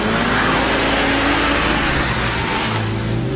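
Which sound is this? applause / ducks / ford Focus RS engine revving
ford Focus RS engine revving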